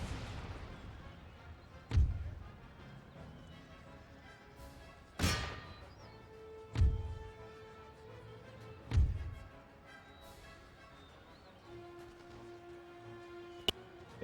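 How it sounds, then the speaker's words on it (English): Musket volleys in a battle in the Empire: Total War video game, heard as several heavy, booming shots spaced a few seconds apart over a low, rumbling battlefield din. "Start shooting them."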